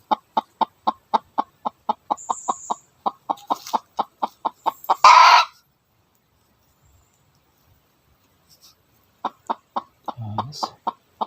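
Upos, a rooster, sends out a long run of rapid, evenly spaced clucks that break for a louder squawk. After a silent stretch the clucks start up again, close and loud, with no voices.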